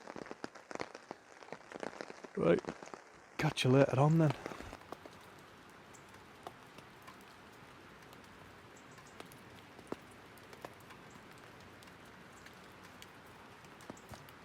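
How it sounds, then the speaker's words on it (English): Rain dripping around a camp, leaving a faint scatter of small irregular drips and patters that continue on their own after someone speaks briefly near the start. "there's enough rain there to make that keep dripping"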